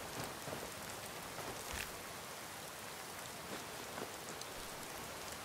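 Steady rain pours down in the game Skyrim, a continuous hiss of drops on surfaces with faint scattered patters, heard alone at moderate distance.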